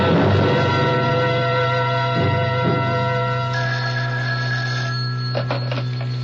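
In a radio drama, a telephone rings loudly and steadily with a bright, buzzing bell tone for several seconds, with brief pulsing breaks and no voices.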